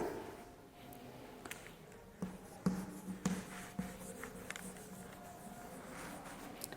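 A pen scratches across paper during a classroom lesson on application writing, soft scribbling strokes with a few sharper taps, faint and close with a low background hum.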